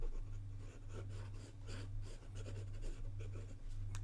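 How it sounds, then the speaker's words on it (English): Asvine P30 fountain pen with a wet stub nib drawing across paper, a soft continuous scratchy rustle of steady strokes, close and quiet, alone with faint low background hum. "in terms of drawing, this nib is really nice"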